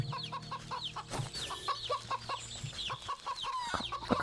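Chickens cluck in the farm video game Wytchwood, a run of short repeated clucks and squawks with a thump partway through, loud and close over a low steady hum.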